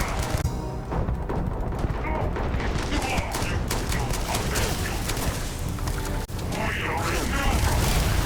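Rapid gunfire in the space game Starfield, dense continuous shooting with cracks and booms layered throughout, loud and busy, with a voice talking over it.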